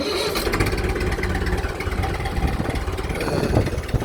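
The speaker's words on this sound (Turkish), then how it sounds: "Çok güzel bir sesi var traktörümüzün." A rare crawler-tracked 265 S tractor runs nearby with a steady, rapid diesel clatter, its rough idle continuous and fairly loud, with no talk.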